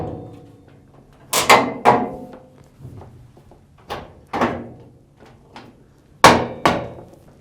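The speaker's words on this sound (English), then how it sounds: "Lift up on the back of the washer while you slide the top back into place." A Samsung washing machine's top lid is worked back into place during a hinge repair. Several sharp plastic thunks and clacks come in pairs, loud and close, separated by quieter handling rattles.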